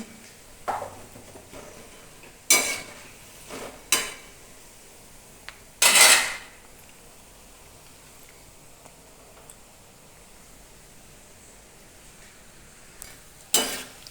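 Bhajiya frying in a kadai during rainy weather, a faint bubbling hiss broken by several sharp clinks and scrapes of a utensil turning them over, spaced apart with quiet gaps.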